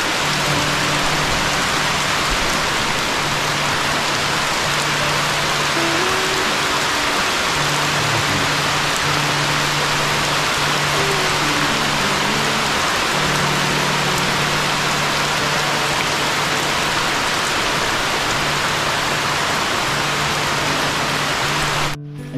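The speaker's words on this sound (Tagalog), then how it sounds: "Grabe, ulan na malakas." Heavy rain pours steadily and loudly for the whole stretch, a dense close hiss of drops hammering plastic sheeting, with no voices over it.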